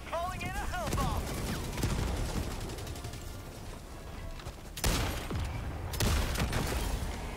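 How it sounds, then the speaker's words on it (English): A hellbomb strike and gunfire ring out in a video game battle against a big walker, with a sharp loud blast near the middle and another burst shortly after over steady combat noise. "Calling in a hell bomb."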